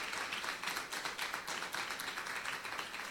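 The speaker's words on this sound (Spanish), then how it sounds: "Puede darle un aplauso a Jesucristo." Church congregation applauding during a Spanish-language worship service, a steady dense wash of clapping from many hands that fills the room evenly throughout.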